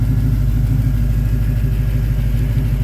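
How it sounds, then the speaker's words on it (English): A 1991 Chevrolet S10 Blazer with a freshly rebuilt engine idles smoothly, giving a steady, even low rumble that holds constant from start to finish with no talking. "Runs real smooth, idles great, goes down the road fine."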